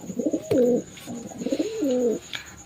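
Giribaz pigeons coo at home in their loft, a close, throaty series of rolling coos repeating in short phrases, clear and fairly loud with no voices over them.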